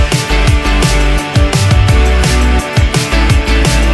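The second part of a pop chorus, a loud, dense mix with heavy bass and a driving kick-drum pattern that pulses steadily throughout.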